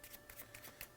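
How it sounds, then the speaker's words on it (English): Playing cards given an overhand shuffle, a quick series of soft riffling slaps in an even rhythm, faint and close up. "overhand shuffle, retaining the bottom stock."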